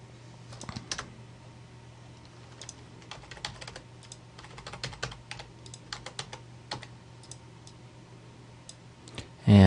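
Computer keyboard keys, mostly arrow keys, tapped in short irregular bursts of light clicks over a steady low hum, fairly close and quiet, while adjusting a banner layout in Photoshop; no speech.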